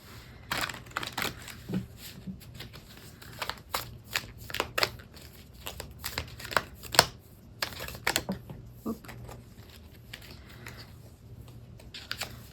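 An Angels of Abundance oracle card deck is shuffled by hand in a quick, irregular run of crisp riffling snaps and soft slides, close up, with a few pauses between bursts and no talking.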